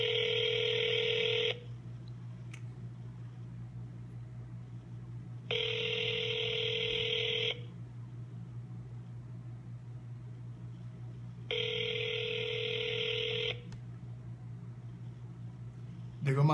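Telephone line calling the Diego Martin Regional Corporation office: three evenly spaced ring-back tones, each about two seconds long, over a constant low hum, with no answer.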